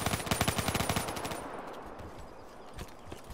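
Rapid automatic gunfire from a video game weapon with heavy recoil, a fast loud burst of shots for about a second and a half, then quieter scattered shots over a game background.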